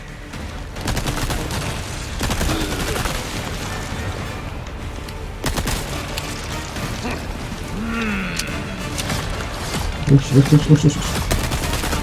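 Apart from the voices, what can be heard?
gunfire in video game Resident Evil 4 Remake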